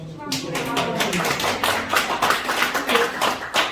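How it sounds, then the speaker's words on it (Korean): An audience at a club lecture breaks into a brief burst of clapping, dense and close, with the claps blending into a fast patter that continues for several seconds before thinning out. "박수"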